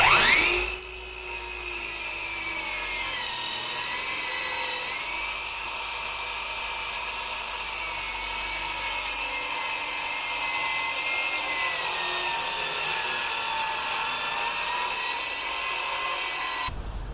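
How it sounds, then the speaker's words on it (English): A power saw whines steadily and loudly for about seventeen seconds as its blade plunge-cuts into wood during carpentry work on an electric fireplace, with no talking. "watch to see where your blade is going to plunge into the wood"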